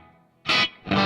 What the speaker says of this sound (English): it's a plate reverb type that provides modest ambience to the dry